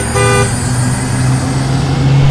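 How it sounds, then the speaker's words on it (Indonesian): A bus horn toots near the start, a short sustained blast with harmonics, over a steady idling engine rumble as the vehicle pulls up close; the low engine drone continues throughout. "Nah, itu bus aku udah datang."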